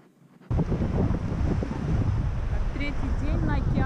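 Strong wind on an ocean shore buffets the microphone in a heavy, continuous rumble that bursts in after a brief quiet start, with a voice speaking faintly beneath it.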